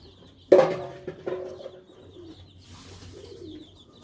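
A Pakistani breed pigeon gives a sudden loud flutter followed by soft, low cooing and a few faint murmurs, close by in a quiet space.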